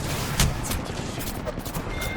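Rapid gunfire in the video game Apex Legends rattles in dense, loud bursts across the whole two seconds with a sharp crack early on, and no voice is heard.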